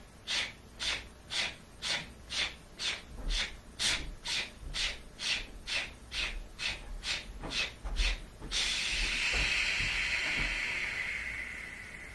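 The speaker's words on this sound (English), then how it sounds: "Release the tongue, drop the jaw, exhale with a ch." Sharp, forceful exhales from a breath of fire breathing exercise pulse in a steady, rapid rhythm of about seventeen bursts, close to the microphone, then give way to one long continuous hissing breath.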